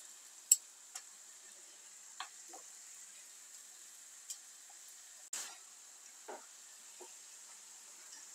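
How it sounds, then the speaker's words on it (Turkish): Faint, steady sizzle of thin meat slices frying in a pan, broken by scattered pops, clicks and scraping taps, with no talking. "Arkalı önlü güzelce kızartacağım."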